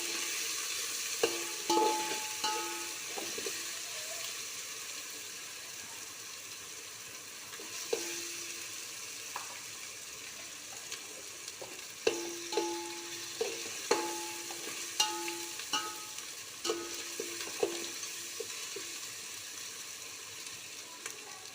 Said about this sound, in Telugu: నూనెలో ఫ్రై అవుతాయి